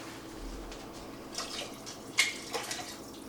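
Water splashes and trickles faintly as cans are rinsed out into a pot of lentil soup, with a few brief louder pours and drips over a quiet background.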